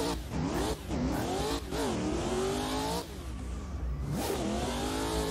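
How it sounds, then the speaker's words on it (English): A supercharged LS V8-powered BMW E36 race car accelerates hard on an oval speedway, its loud engine revving up through rising pitch sweeps, dipping briefly between gear changes and climbing again, close and dominant throughout. "So full send in this supercharged LS powered E36 BMW"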